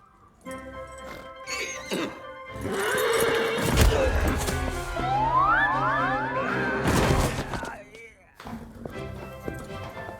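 A horse whinnies loudly and at length nearby, its rising and falling neighs mixed with thuds and clatter as people talk around it.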